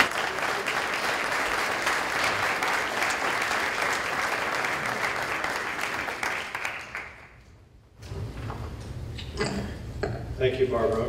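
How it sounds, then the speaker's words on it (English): Steady applause from an audience for panelists at a university award ceremony, fading out after several seconds, followed by light rustling and a few clinks of dishes. "let's give it a round of applause for our panelists who work very diligently"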